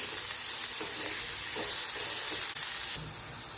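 Onions sautéing in a pan for a poha tadka make a continuous near hiss and sizzle with a few faint stirring scrapes, with no talking over it.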